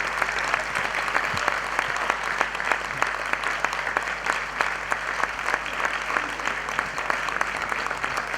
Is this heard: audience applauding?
yes